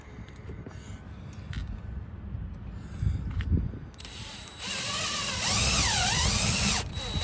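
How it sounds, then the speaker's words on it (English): Cordless power drill driving screws into wall studs for an RV solar panel mount, a steady high whine that holds for a few seconds near the end after some quieter handling noise. "Well, I got 8 screws in and I hit every stud."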